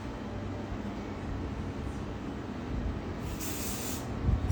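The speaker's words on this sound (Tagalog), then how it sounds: "hairspray, kuha ka hairspray." Hairspray from an aerosol can sprayed close onto a wig cap: a steady, continuous hiss held for several seconds, near and fairly loud, with no talk.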